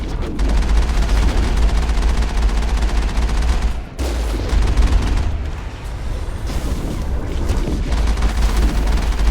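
Enemy gunfire in the Mass Effect shooter on Virimire, sustained rapid bursts of shots rattling almost without pause, loud and close, with a brief lull near the middle.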